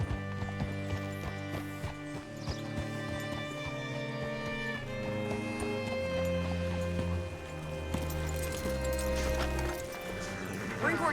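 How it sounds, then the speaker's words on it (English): Horse hooves clip-clop steadily in Red Dead Redemption 2, moderately close, under swelling orchestral music and a man's speech. "Hitch your horse up here."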